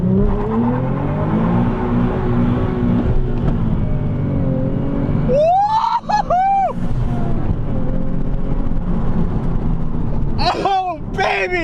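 A Nissan 370Z Nismo accelerating hard and burning rubber, its engine roaring loud and close as it climbs, with excited shouting from people nearby breaking in over the noise.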